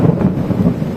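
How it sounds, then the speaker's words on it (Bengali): Thunder rumbling during a rainy night storm in Japan, a loud low rolling roar mixed with the wash of rain, heard without talk over a brief stretch. "বজ্রপাত, মেঘের গর্জন সব মিলিয়ে"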